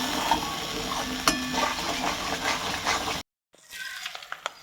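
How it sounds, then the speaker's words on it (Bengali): Nut and poppy seed paste being stirred in a pan, with continuous scraping and a soft sizzle, occasional utensil knocks, then a brief silent break before quieter stirring resumes. "নাড়তে হবে এতক্ষণ, যতক্ষণ না এটা একটু তেল মতো বেরোবে"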